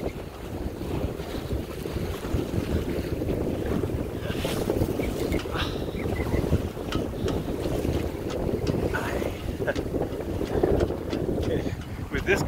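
Steady wind buffets a Compac 19 sailboat, a continuous loud rushing roar with water and hull noise mixed in, lasting throughout with faint voices underneath.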